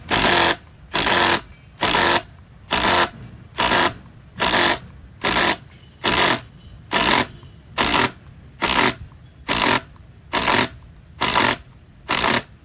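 A 2953-20 cordless screwdriver in auto mode drives screws into wood, giving loud, evenly spaced bursts of whirring and hammering about a second apart, separated by short pauses.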